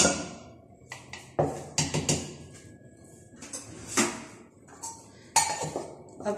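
A metal kadhai, or wok, being set in place on the stove while cooking dum kebabs, giving a scattered series of close metallic clanks and knocks with quieter pauses between, no talking.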